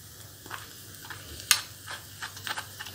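Vegetable momo filling fries lightly in a pan with a faint, low sizzle, punctuated by a few sharp clicks of a spoon stirring against the pan.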